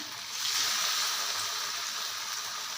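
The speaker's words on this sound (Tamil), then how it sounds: "இப்போ ஒன்று ஒன்றா எடுத்து நம்ம போட்டு பொறிக்க வேண்டியது தான்" Veg nuggets deep frying in hot oil, a steady bright sizzle with a soft bubbling crackle, close and continuous, swelling slightly at the start and then holding even.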